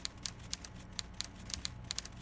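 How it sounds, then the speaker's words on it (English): Disco Elysium typewriter clicks tap in a quick, irregular stream of sharp keystrokes over a soft background hum, moderately faint. "Those typewriter clicks are loud."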